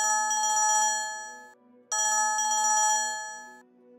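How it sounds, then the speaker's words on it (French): A telephone rings with a bright electronic ringtone in two long bursts separated by a short gap, loud and close, with no one talking. "La sonnerie du téléphone m'a presque fait sortir de ma peau."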